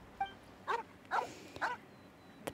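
A puppy in the video game Genshin Impact gives a few short, soft yips and barks spaced out over a couple of seconds, fairly quiet and close, with no talking.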